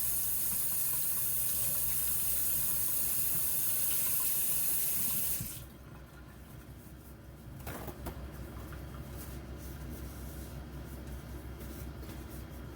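A tap runs hard into a kitchen sink while trays from a food dehydrator are washed after making jerky. The flow is loud and steady for about five seconds, then shuts off, leaving soft handling sounds.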